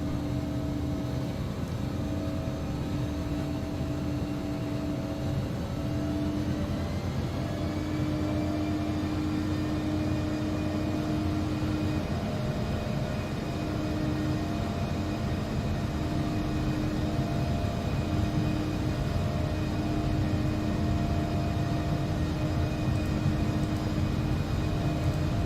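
Embraer Legacy 650 business jet engines spooling up for takeoff in X-Plane 11, a steady loud turbine roar with rising whine tones, continuous and without speech throughout.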